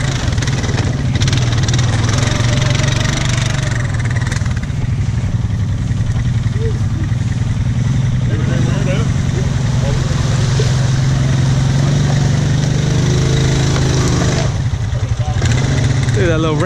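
A Rancher ATV engine runs hard at an off-road park, a loud, steady low rumble that rises and falls with throttle throughout, with people talking over it.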